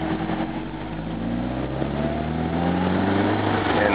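An MGB engine pulling under load as the throttle opens, a steady mid-pitched exhaust drone with rising harmonics and building loudness, heard close and alone.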